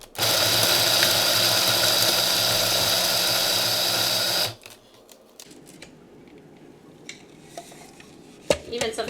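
A food processor chops seeds and coconut for raw vegan keto granola: a loud, steady, buzzing motor whir runs for about four and a half seconds, then cuts off abruptly, leaving quiet clinks and handling noises.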